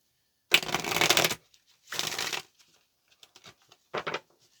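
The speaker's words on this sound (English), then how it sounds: "let's make this our last shuffle" Tarot cards are shuffled in three separate bursts of rapid papery riffling, a long one, a medium one and a short one, with a few soft card taps between them and no voices.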